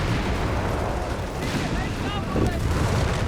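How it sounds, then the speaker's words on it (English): Grenade blasts and gunfire from the WWII strategy game Company of Heroes 3 boom and rattle in a dense, continuous battle din, with commentary talk running over the top throughout. "Grenades are being chucked."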